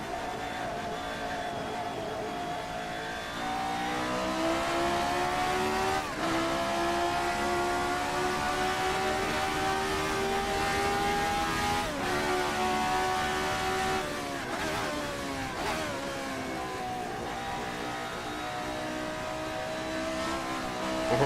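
RSS Formula 79 race car in a racing game, its engine holding a loud, steady high-pitched whine through a four-wheel drift, with a few brief dips and rises in revs.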